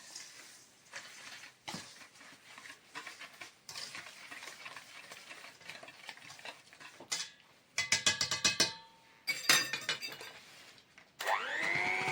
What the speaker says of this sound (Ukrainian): 280 грамів цукру, перемішую